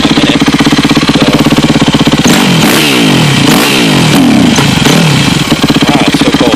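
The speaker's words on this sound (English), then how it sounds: "Let it idle a little longer." A Yamaha YZ250F dirt bike idles after a cold start, a loud, close, rapid four-stroke pulsing that briefly shifts and wavers midway before settling back to a steady idle.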